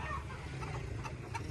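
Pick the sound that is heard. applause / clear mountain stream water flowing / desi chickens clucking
desi chickens clucking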